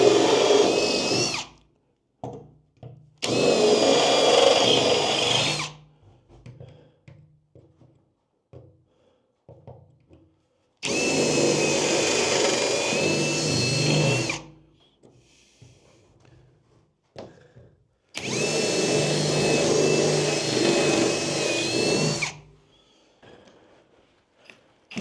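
A power drill drills out pop rivets during a horse trailer renovation, whining loudly in four bursts of two to four seconds each, with brief pauses and small clatters between them.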